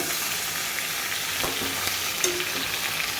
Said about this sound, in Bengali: এখন মুরগিটাকে একটু ভেজে নেব তেলে।